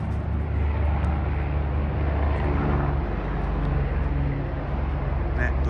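A helicopter flying low overhead produces a loud, steady rotor and engine roar that fills the clip without letup.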